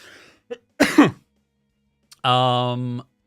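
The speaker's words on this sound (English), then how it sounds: "I don't know why I can't stop coughing" A single close cough with a throaty rasp, followed a moment later by a brief voiced groan or hum.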